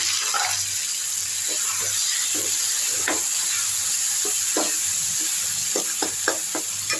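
Arai keerai greens poured into a hot pan for a tamarind kadayal sizzle steadily, with soft stirring scrapes and clinks close by.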